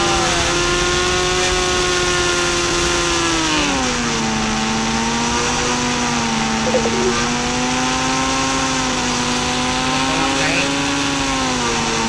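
Hayabusa superbike engine in a racing video game, a sustained loud high-pitched engine whine that rises and falls in pitch as it accelerates, continuous and close throughout.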